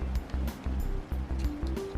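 Jackfruit mixed with coconut jelly being poured, giving a steady wet, sloshing pour with a low rumbling background throughout, with no speech.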